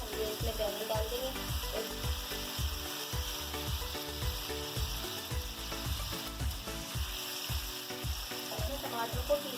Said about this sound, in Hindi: बैंगन हम डाल देंगे, ये देखिए एक एक करके हम ये इसमें बैंगन डाल देंगे।